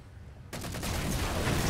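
Concussion rifle fire in Halo 4 during a multiplayer match: a sudden loud blast erupts after a short quiet moment and rolls into a dense, continuous barrage of booming impacts that stays loud to the end.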